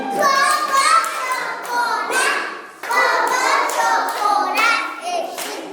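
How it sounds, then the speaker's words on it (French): Kindergarten pupils at a school clap for a classmate after a French recitation, two bursts of close, scattered hand claps with children's chatter mixed in and a short gap between them. "Applaudissez pour Ngotani."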